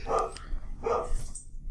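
Dogs give two short, sharp barks, close by with a low rumble beneath, after a bolt action rifle that is really a stick is brandished at them.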